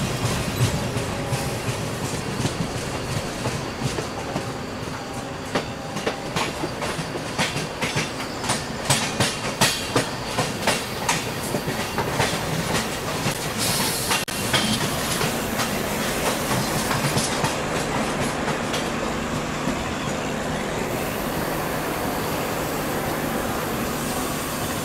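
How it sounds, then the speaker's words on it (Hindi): An Ahmedabad–Puri Express train runs in the Train Simulator game, with a continuous rumble and a steady clickety-clack of wheels over rail joints that speeds up and then eases off, loud and sustained, with no talking. "तो गाइस चलो यार ट्रेन को अब यहीं पर रोक लेते हैं"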